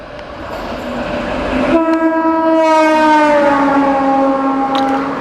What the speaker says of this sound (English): we cross now the Dadar Chennai Egmore Express